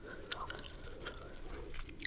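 Close, quiet ASMR gum chewing with soft wet smacks and clicks spread across the moment, ending in one sharper louder snap, with no talking.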